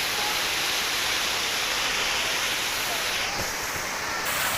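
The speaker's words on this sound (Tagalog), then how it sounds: "buhos ng waterfall" Kalaanan Falls pours down in a loud, unbroken rush of water, a steady hiss-and-roar of falling water heard up close, with no pause throughout.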